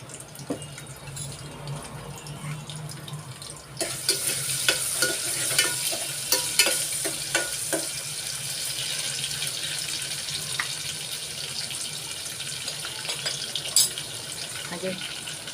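Homemade crushed ginger garlic paste and two green chilies fry in hot oil, first as a quieter sizzle and then, a few seconds in, as a louder crackling hiss punctuated by stirring clicks.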